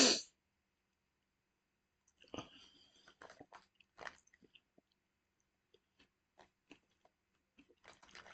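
Crunchy peanut snack resembling a rice-crispy treat being bitten and chewed close up, with scattered crisp crunches and soft mouth clicks spread over several seconds, no talking.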